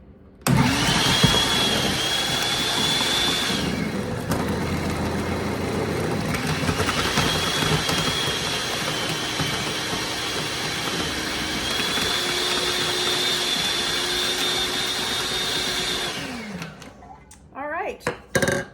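A loud, steady grinding whir of a food processor shredding bar soap for about sixteen seconds, then winding down and stopping, followed by a few clicks.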